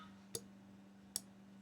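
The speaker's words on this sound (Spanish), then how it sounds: "nosotros solo tocamos el micrófono y está como un interruptor" Two sharp taps on the microphone of a homemade sound-activated switch circuit, isolated clicks spaced under a second apart over a faint steady electrical hum.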